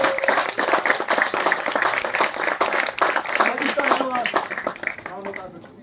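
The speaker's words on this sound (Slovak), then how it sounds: "Veľký potlesk pre úžasnú maminu." Applause from an audience at a Slovak family celebration with a DJ, steady clapping throughout while a voice talks over it, fading toward the end.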